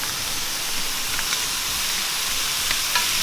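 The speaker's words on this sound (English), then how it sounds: "a little bit salt in the shrimp and pepper, and you stir fry it" Shrimp and vegetables stir-frying in a hot pan, a steady loud sizzle and hiss with faint clinks of stirring throughout, no voices.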